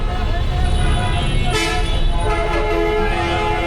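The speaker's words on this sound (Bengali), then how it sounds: "চতুর্দিকে শুধু হর্ন আর হর্ন" Vehicle horns honk from all sides in a traffic jam, heard from a bus, over steady engine and road noise, one sharp blast standing out amid continuous traffic din.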